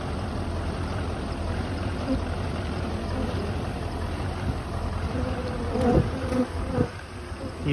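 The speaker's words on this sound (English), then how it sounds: "So many bees." A dense swarm of bees drones and buzzes constantly nearby, with a faint high whine above and occasional louder passes close by.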